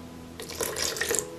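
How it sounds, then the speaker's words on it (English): Water is poured into pakora batter in a bowl, a short splashing pour that starts abruptly and runs for about a second, close by and alone. "Add some more water."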